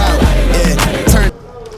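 Tap water runs in an outdoor washroom in cold weather as someone washes, with loud broadband splashing and gushing that cuts off abruptly, leaving quieter background.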